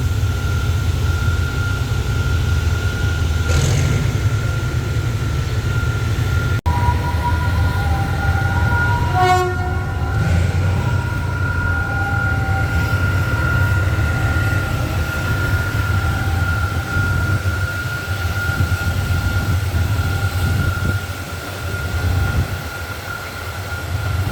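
A Henschel HAS 77 locomotive shunts a Kiha 40 railcar outside the Makkasan works, a steady loud rumble of engine and rolling wagons with a sustained horn-like tone and brief squeals, no talk.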